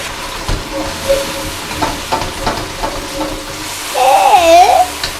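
Food frying in rendered duck fat, a close hiss and sizzle with stirring scrapes and knocks, joined near the end by a brief rising whistle-like tone.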